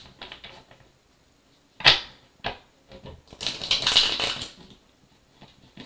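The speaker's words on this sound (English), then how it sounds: "This deck is so fucking hard to shuffle" An Occult Tarot card deck being shuffled, with sharp snapping card flicks followed by a longer rustling riffle of the cards close by, with a few quiet pauses between bursts.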